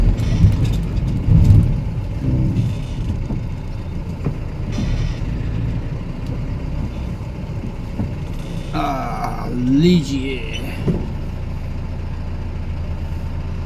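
A diesel truck engine rumbles low and steady at a Reliance petrol pump, with mechanical clunks and a brief spoken word partway through.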